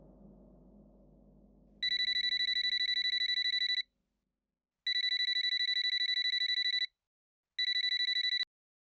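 Electronic telephone ringing in three long trilling bursts separated by short silences, loud and close, after a low murmur of background sound fades out.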